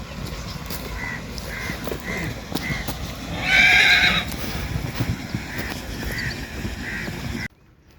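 A mare neighs in one loud, shaky whinny, preceded and followed by a series of soft rhythmic calls over steady outdoor background noise.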